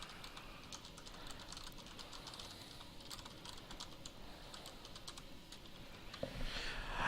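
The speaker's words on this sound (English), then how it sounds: "You type in whatever you wish to type here." Quiet, steady typing on a computer keyboard, a soft rapid patter of keystrokes at close range with a short louder clatter near the end, no voices.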